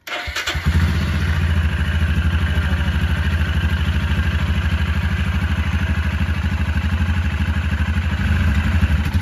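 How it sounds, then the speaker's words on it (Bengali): Royal Enfield Interceptor 650 motorcycle engine running steadily while riding on the road from Purulia town toward Garpanchokot, a loud, even parallel-twin drone with rapid pulsing throughout and an initial rev as it pulls away. "ইন্টারসেপ্টর 650 চালাচ্ছি"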